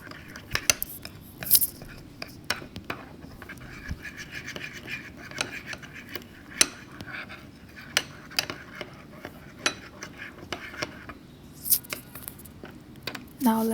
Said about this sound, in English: We will mix it until there are no lumps or until it's smooth.